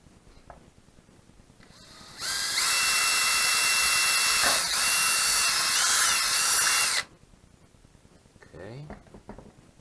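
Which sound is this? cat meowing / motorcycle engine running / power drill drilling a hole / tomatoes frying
power drill drilling a hole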